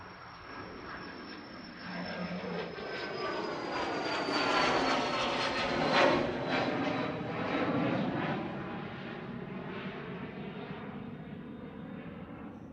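A Cessna Citation business jet at Manchester Airport passes with a steady whining engine roar that swells to a peak midway and slowly fades, heard from moderate distance with no voices.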